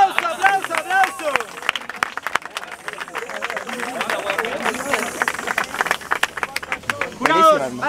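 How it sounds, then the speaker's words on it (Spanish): Crowd at a Spanish-language rap battle, DEM Mid Season 2023, bursts into applause and shouting after a verse, dense clapping and cheering under a loud voice, with a sharp cry near the end. "¡Aplauso, aplauso, aplauso!"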